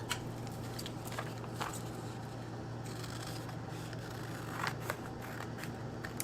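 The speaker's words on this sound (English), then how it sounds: "and then we cut our triangles" Scissors cutting small paper triangles for an origami 3-D flower pop-up card, with quiet, close snips and rasping blade slides that come in scattered bursts over a steady low hum, with no talking.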